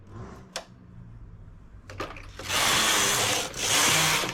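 Needles being raised on a home knitting machine while a flared godet skirt is knitted: a few sharp mechanical clicks, then a loud, steady metallic rasping clatter that dips briefly and resumes, close up with no talk.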